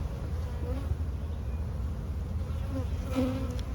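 Honeybees buzzing in an opened hive, a continuous low, dense hum close by, with a few individual bees droning past a little louder near the end.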